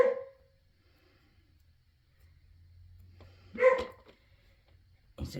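A dog barks indoors in two short, sharp bursts separated by a quiet stretch with a low hum, then a third bark starts at the very end; the barks are close and fairly loud.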